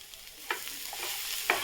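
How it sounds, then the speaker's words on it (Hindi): Vegetables and spices sizzle softly in a pan, with a couple of sharp scraping stirs breaking through the steady frying hiss. "सब्जियों के साथ साथ मसाला भी हमारा भून जाएगा"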